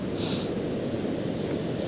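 Waves crash against the rocks at Happisburgh beach in a continuous close roar of surf, with wind buffeting the microphone and no one speaking.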